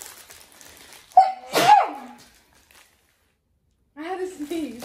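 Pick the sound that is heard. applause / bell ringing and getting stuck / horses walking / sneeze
sneeze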